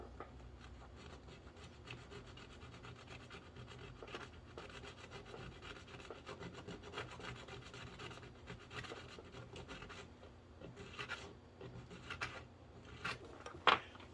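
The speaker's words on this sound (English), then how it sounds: "So first I'm going to smooth this out again. Do a little scraping here." A homemade crossover switch, apparently of wood, is scraped to smooth it: soft, continuous rasping and rubbing strokes at close range, with a few light knocks and a brief sharper tap near the end.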